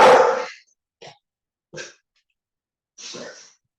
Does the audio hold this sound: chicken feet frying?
no